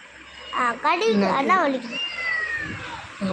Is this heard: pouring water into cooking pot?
no